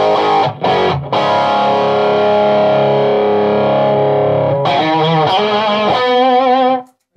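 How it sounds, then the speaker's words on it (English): An electric guitar plays through a Marshall amp, first with a Big Muff fuzz holding a thick sustained chord, then switching to a Super Overdrive for a grittier, choppier run of notes, loud and unaccompanied. "First with the big muff, and then when the sound changes, that will be the super overdrive that you're hearing."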